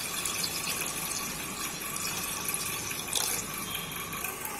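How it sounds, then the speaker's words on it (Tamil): Water pours steadily into a pot of rasam with a continuous splashing gush, fairly soft and close, and no voices. "போட்டு இப்போ தேவையான அளவு தண்ணி ஊற்றிக்கோங்க."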